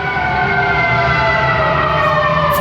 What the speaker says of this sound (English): Fire truck, y'all hear them?